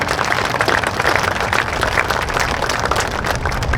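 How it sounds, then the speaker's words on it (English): Audience at an opening ceremony for a veterans' event claps steadily in a dense wash of applause, close and continuous with no voices standing out. "you can give them applause"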